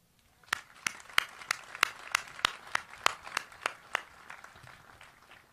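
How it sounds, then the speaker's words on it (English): A small crowd at a military change-of-command ceremony applauds, with a dozen or so sharp, distinct claps standing out over a softer patter, fading off after about four seconds. "Please give another round of applause for the 8th Army Band and the Salute Battery from 217 Field Artillery"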